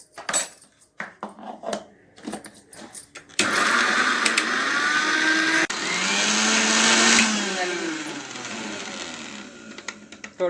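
A mixer grinder grinding peanuts for chutney: a few short pulsed bursts and clinks give way to a loud, continuous motor whir with whirling blade churn, running several seconds, pausing briefly, then resuming.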